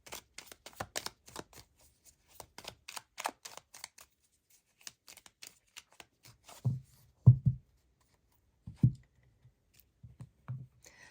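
Tarot cards shuffled by hand in a quiet room: a quick run of crisp riffling flicks, then several soft, separate slaps and taps as cards are set down, all close and fairly faint.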